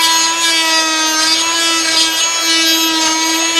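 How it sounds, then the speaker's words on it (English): A power-driven scraper with a sharp blade grinds continuously against glue in a loud, close, steady whine with a constant pitch and a rough, rasping edge. "Oh, so you can scrape all the glue and everything off."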